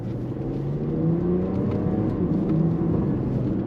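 A Porsche Macan S with a 340-horsepower engine accelerates, its engine note climbing steadily in pitch and dropping back at quick gear shifts, heard loud and close with no one talking.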